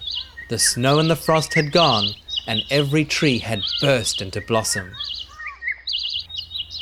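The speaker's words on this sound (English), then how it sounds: "he heard a blackbird singing" A blackbird sings in bright, repeated chirping phrases beneath a man reading aloud, and its calls carry on alone in short bursts once the voice pauses.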